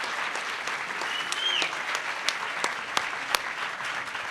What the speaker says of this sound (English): I think Lindsay deserves more applause than that.